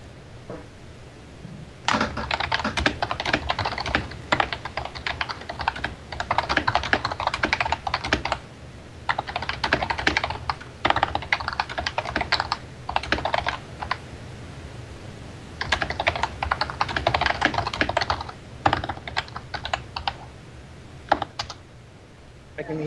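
Long stretches of quick, clattering keystrokes on a nearby computer keyboard, arriving in uneven bursts with short pauses between them and no talking.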